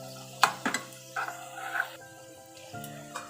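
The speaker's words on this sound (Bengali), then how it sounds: "ভালো করে এটাকে এবার নাড়িয়ে নেব" Potatoes with Kashmiri chilli powder are stirred in a pan: soft frying sizzle with a few quick utensil scrapes and clinks close by, plus some brief tonal sounds in between.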